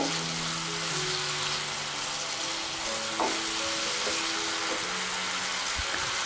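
Dried shutki fish frying in a pan, a steady close sizzle with occasional stirring clinks and scrapes, plus faint background tones, and nobody speaking.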